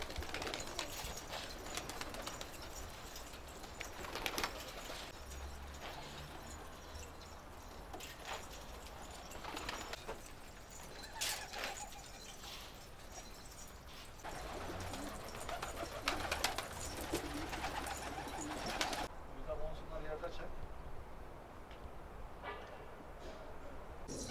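Pigeons in a coop kept by a Kahramanmaraş bird fancier coo and shuffle, with repeated wing flutters and scattered clattering, under a steady background murmur and occasional voices.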